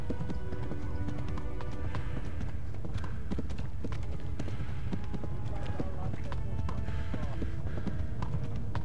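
Horse hooves gallop in Kingdom Come: Deliverance: a fast, steady clip-clop rhythm runs throughout, close and prominent over a low rumbling backdrop.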